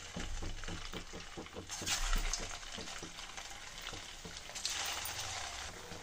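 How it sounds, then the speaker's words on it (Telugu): Rava vada deep frying in hot oil over a low flame, a steady sizzle and bubbling that runs throughout, with faint rhythmic thumps beneath and a brighter surge of crackle partway through. "ఇలా గోల్డెన్ బ్రౌన్ కలర్ వచ్చేలాగా డీప్ ఫ్రై చేసుకోవాలండి"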